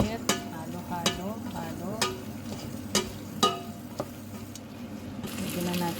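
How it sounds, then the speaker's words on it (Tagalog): A pan of pasta being stirred and mixed with salt and black pepper, giving a steady soft sizzle broken by sharp, regular scraping knocks of the utensil against the pan about once a second. "Mix na yan. Halo-halo ulit."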